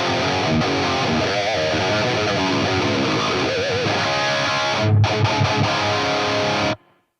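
Electric guitar played through a Line 6 Helix REVV amp model with firmware 2.80, a loud saturated distorted riff of chugging and sustained notes that cuts off abruptly near the end.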